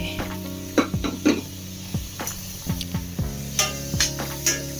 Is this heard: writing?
no